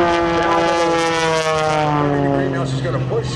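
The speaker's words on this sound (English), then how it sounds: "And now still turning the airplane as she continues right back down to the far right side, the east end of the aerobatic area." Propeller aerobatic airplane turning through a routine at the Vero Beach air show, a steady droning engine with a strong harmonic whine heard continuously and loud across the whole moment.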